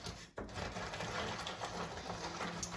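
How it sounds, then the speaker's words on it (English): A small electric nut grinder whirs steadily on walnuts, switching on abruptly and running as a continuous, fairly quiet buzzing hum. "So I'm going to put some of those into this handy dandy little nut grinder."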